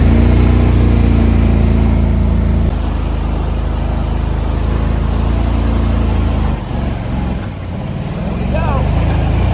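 An Argo amphibious vehicle's engine revs hard up close, a loud, continuous mechanical roar with a deep throbbing low end that holds steady and then dips briefly near the end.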